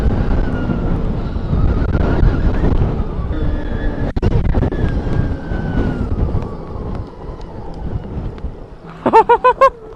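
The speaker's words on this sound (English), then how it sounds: "this wind is insane" Strong wind buffets the microphone on a mountain peak during an electric dirt bike ride on a Stark Varg, a loud continuous roar with gusts, and a brief tonal whine near the end.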